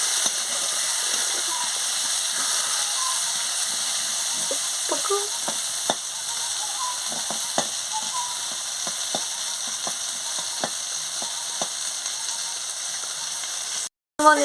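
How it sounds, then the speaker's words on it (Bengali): Neem leaves fry in a pan with a steady, close sizzle, punctuated by light clicks and scrapes of stirring, before the sound cuts off abruptly near the end. "এবার আমি নিম পাতাটা দিয়ে দিচ্ছি, দিয়ে ভালো করে ভেজে নিচ্ছি"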